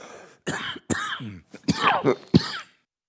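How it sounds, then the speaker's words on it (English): A run of several harsh, forceful coughs and throat-clearing bursts from one nearby person, close together with short gaps, then silence. "Got a cough."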